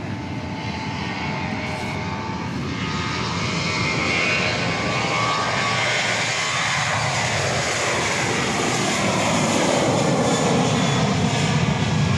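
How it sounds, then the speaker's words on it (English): A Boeing 737-800 jet at Dallas Love Field after dark gives a loud, continuous engine roar that builds slightly and fills the whole twelve seconds, with no talking over it. "Again, going to Albuquerque, flight 4373, a 737-800."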